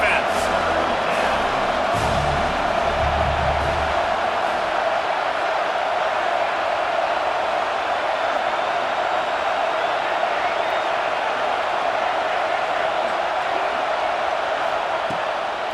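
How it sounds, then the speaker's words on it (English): A football stadium crowd roars steadily behind the defense on a big third down, a dense, sustained wash of cheering noise, with a commentator's voice heard briefly at the start. "Big third down as the crowd gets behind this defense."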